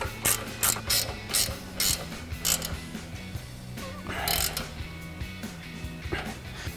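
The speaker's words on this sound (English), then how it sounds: "Now we'll tighten down our upper ball joint nut using our 18mm ratcheting wrench." Rapid clicking of an 18mm ratcheting wrench tightening the upper ball joint nut on a 2021-2025 Ford F-150 during a coil-over leveling kit install, in bursts of quick ratchet strokes, close and fairly loud.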